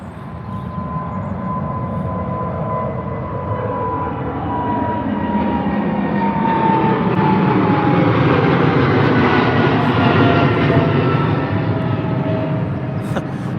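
A white airliner departs Heathrow with a loud, sustained jet engine roar that swells steadily and stays close and dominant, with a whining tone sliding through the rumble as the aircraft climbs away.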